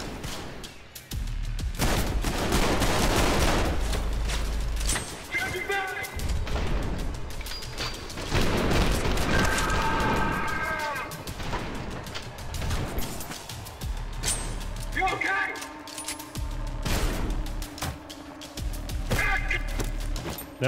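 Repeated gunfire with heavy thumps and booms from grenade-style blasts fills a Trepang 2 first-person shooter fight, loud and nearly continuous, with bright ringing effects layered over the shots.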